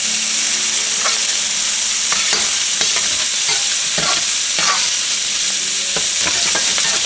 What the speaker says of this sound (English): Now we're gonna sear our little sausage here. This is some beef sausage